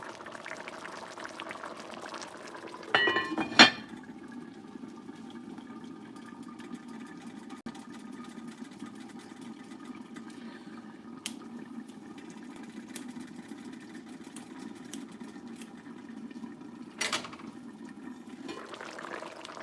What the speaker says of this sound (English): it's good when you hear that bubbling up going on in the pot